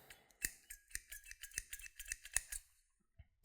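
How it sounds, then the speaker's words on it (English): Garden pruner blades snap closed about a dozen times in a quick, uneven rhythm of crisp metallic snips, close and alone, to clear the burr after sharpening. "Snip them together a few times to remove that burr."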